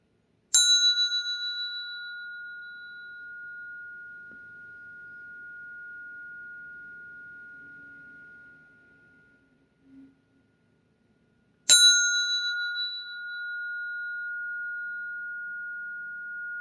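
Two bright bell strikes, each ringing out with a long sustained tone: one near the start and another about eleven seconds later, separated by faint low murmuring.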